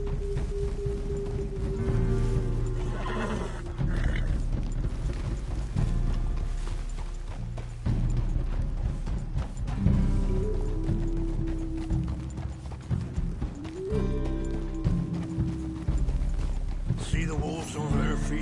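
Horse hooves clip-clop steadily through a ride in Red Dead Redemption 2, with game music and ambient sound layered over the rhythmic steps and occasional mechanical clinks.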